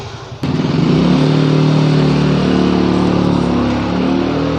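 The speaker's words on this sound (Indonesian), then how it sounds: "di sini agak sedikit ribut teman-teman karena sudah mulai mau pagi ya, sudah banyak juga kendaraan ya, sudah banyak kendaraan" Dense early-morning road traffic, with motorcycles and cars passing close by in a steady loud engine roar that swells after a sharp onset and holds throughout.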